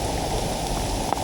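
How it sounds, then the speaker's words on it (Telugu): A waterfall in Telangana with beach-like sand below it pours in a steady, dense rushing roar that stays even and unbroken throughout. "వాటర్ ఫాల్ మాత్రం చాలా బ్యూటిఫుల్గా ఉంది."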